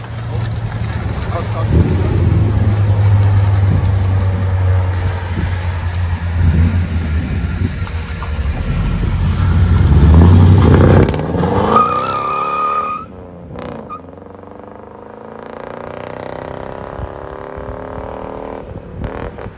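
A 1994 Chevy 1500 pickup with a 5.7L V8, stock converter and 3-inch true dual exhaust, rumbling deep and loud up close, then revving hard and dropping to a quieter idle while someone talks over it.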